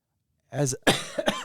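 A couple of sharp, close coughs in quick succession, loud and raspy, after a moment of silence.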